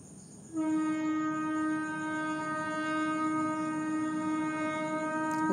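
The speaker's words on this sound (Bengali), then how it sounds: "আর আমাদেরকে ট্রেনের আওয়াজ আসছে, প্রচুর আওয়াজ।" A train passes nearby with a loud, sustained horn blast that starts abruptly and holds steady for several seconds over a rumbling rail background, close and dominant, with no talking.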